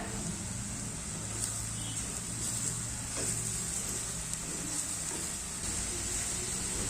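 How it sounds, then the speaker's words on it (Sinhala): Chopped onions frying in hot oil for Sri Lankan seeni sambal, stirred now and then: a steady, close sizzling hiss with faint scraping underneath. "ලුණු එකතු කරගෙන මේ විදිහට සැරෙන් සැරේ කවලම් කරන ගමන් තෙලෙන් තැම්බෙන්න දෙන්න"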